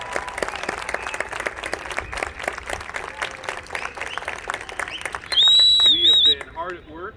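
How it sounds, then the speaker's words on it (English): Stadium crowd applauding the Marching 100 band at an open rehearsal in Memorial Stadium, sharp scattered claps and cheering throughout, followed by a loud whistle or shrill cheer near the end. "let's give a big round of applause for our 2023 Marching 100"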